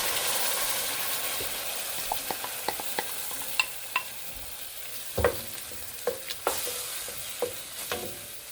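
Ground masala stirred into a frying crab masala in a pan, a soft continuous sizzle broken by repeated sharp spoon scrapes and taps against the pan.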